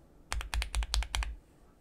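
Lubed linear mechanical keyboard switches, including Gateron Ink Black and Techno Violet, are typed on in a short burst of about eight deep, muted clacks, close and clear with no talking.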